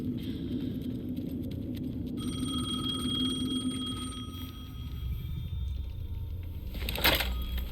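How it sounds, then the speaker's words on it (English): An old telephone rings in the survival horror game Alan Wake 2, its steady tonal ring sounding over a low ambient rumble, followed by a sharp brief burst near the end. "The phone again."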